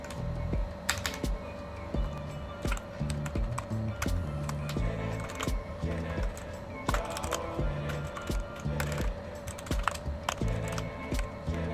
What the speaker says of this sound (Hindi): तो जल्दी से मैं इसको टाइप कर लेता हूँ